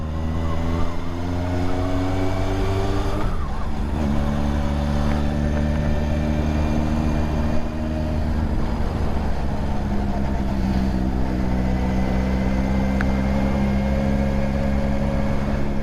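Honda CB750 K project motorcycle ridden on the road, its engine droning steadily with rising and falling pitch through gear changes, wind rush underneath, no talking.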